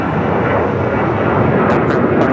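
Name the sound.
British Airways airliner flying over LAX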